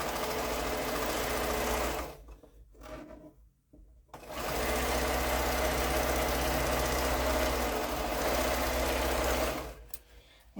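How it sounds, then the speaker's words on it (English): A sewing machine runs steadily as quilt block pieces are stitched, loud and continuous, with a brief pause partway through before it resumes and runs on to a stop near the end. "And sew the next piece."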